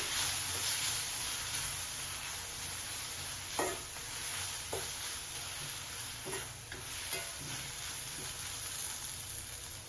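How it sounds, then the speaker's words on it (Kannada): Steady low sizzle of dried red chillies frying in hot oil, with a few soft scraping stirs scattered through, fairly quiet and without voices. "ನಂತರ ನಾನಿಲ್ಲಿ 3 ಒಣ ಮೆಣಸಿನಕಾಯಿನ ಸೇರಿಸ್ಕೊಂಡಿದ್ದೀನಿ. ಅದನ್ನು ಕೂಡ ಚೆನ್ನಾಗಿ ಫ್ರೈ ಮಾಡ್ಕೋಬೇಕು."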